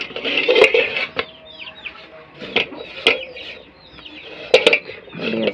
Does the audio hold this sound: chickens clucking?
yes